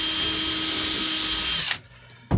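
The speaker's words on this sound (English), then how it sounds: "we've been drilling pilot holes" A power drill bores a pilot hole for a copper nail into a rib of a cedar strip boat: a loud, steady, high whine for under two seconds, then a stop and a brief knock.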